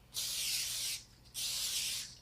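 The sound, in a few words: spraying cooking oil into cake pans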